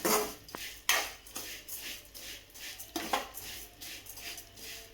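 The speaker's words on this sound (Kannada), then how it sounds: "ಕೆಂಪಗಾಗೋ ಮಟ್ಟ ಹುರಿದಿಟ್ಕೊಳ್ಳೋಣ." Vermicelli roasted in a pan until reddish, heard as a spoon or spatula repeatedly clanking and scraping against metal, with a few sharper knocks over a faint background hiss.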